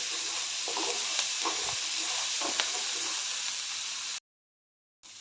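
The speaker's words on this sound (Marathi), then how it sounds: "सांडगे पण चांगलं भाजून घेते" Sun-dried lentil dumplings roast in a pan with a steady, close sizzling hiss, broken by a few soft stirring clicks, then a short stretch of silence near the end.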